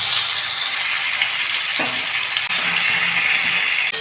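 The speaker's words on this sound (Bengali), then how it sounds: "প্রথম তেল গরম হয়ে গেছে, মাথাটা ভেজে নিচ্ছি" A fish head frying in hot oil in a pan, a loud, continuous close-up sizzle with brief clanks of a utensil, no voices.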